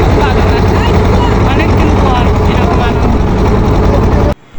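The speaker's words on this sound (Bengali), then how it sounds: "আসলে নৌকার স্যালো মেশিনের এত যে আওয়াজ" A river boat on the Gorai in Kushtia, driven by a shallow pump engine, drones loud and steady with a dense low throb for about four seconds, then cuts off abruptly. Voices sit faintly under the engine.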